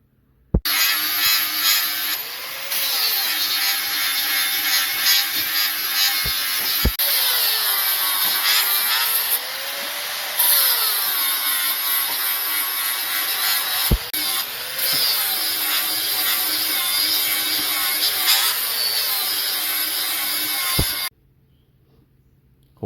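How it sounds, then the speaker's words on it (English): An angle grinder works steel for a homemade anvil, a loud high whine with pitch dips as it bites into the metal, running in long stretches separated by short breaks. "let me see what the grinder does to it first"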